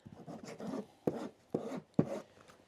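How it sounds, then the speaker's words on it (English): A hand rasp scrapes across packraft fabric to rough it up before gluing, giving four or five short, close, raspy strokes with brief pauses between them. "We have a rasp right here."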